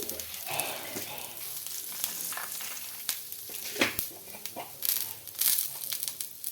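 Dal, dried red chillies and cumin sizzle in hot oil as a tempering for semolina cotton dosa, a close, steady crackling fry with intermittent stirring scrapes and pops, with no voices.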